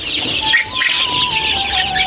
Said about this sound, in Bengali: এই সব দেশি মুরগি, দেশি ফার্মি একসাথেই বাচ্চা ফোটাই।